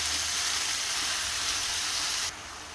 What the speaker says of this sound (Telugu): బీరకాయ ముక్కల్ని వేసిన తర్వాత ఒక 15 నిమిషాలు బీరకాయ ముక్కల్ని ఫ్రై చేస్తూ ఉండాలి